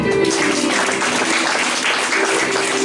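A church congregation applauds during a French-language sermon, a steady, dense wash of clapping that is loud and unbroken throughout, with faint tonal hum beneath.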